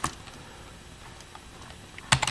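Quick, light keystrokes on a computer keyboard as a Linux mount command is entered, a sparse patter ending in a short burst of rapid presses, close and alone.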